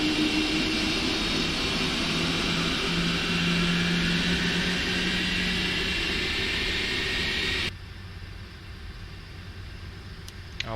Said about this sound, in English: it's really cool firing up these Rolls-Royce engines